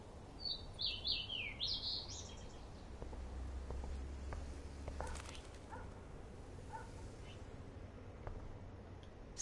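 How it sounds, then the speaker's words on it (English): Small bird trapped indoors in Life is Strange, chirping in a quick cluster of faint tweets followed by sparse calls over low room hum. "That poor little bird has been trapped in here."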